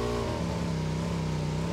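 Car engine in the battle royale game PUBG, a steady, loud droning hum that holds an even pitch throughout without pause.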